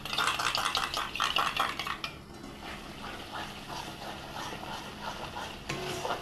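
Sour yogurt being whisked in a bowl, with quick rhythmic clinking of a utensil against the bowl for a couple of seconds, then softer stirring sounds continuing with no speech.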